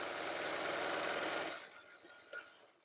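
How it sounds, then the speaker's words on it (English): Singer heavy duty sewing machine stitching fabric tubes for a jelly roll rug, a steady rapid mechanical whir that stops after about a second and a half, leaving faint clicks and handling noise; no speech. "We're using a Singer heavy duty machine."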